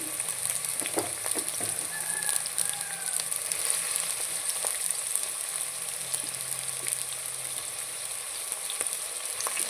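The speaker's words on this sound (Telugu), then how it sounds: "ఆయిల్ హీట్ అయిందండి ఆనియన్స్ అయితే వేసుకుందాం" Chopped onions and green chillies sizzle and crackle steadily in hot oil for a country chicken curry, a continuous close frying hiss with occasional small pops and no talking.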